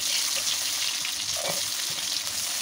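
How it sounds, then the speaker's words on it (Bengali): Meat with chopped onion sizzles loudly in a pan and gets stirred. A dense, even frying hiss runs throughout, with a soft stirring scrape near the middle. "এখন পেঁয়াজ কুচি দিয়ে একটু নাড়াতে থাকবো"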